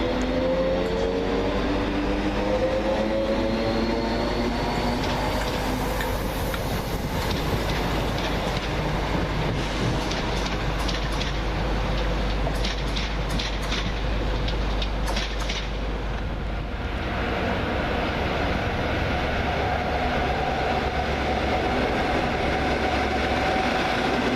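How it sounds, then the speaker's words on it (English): Northern class 322 electric unit 322483 runs through Doncaster station on a delayed Leeds service, a steady loud rumble and roar with wind buffeting the microphone and a brief high squeal of wheels partway through. "322483 with the delayed 1626 Northern Mail service to Leeds"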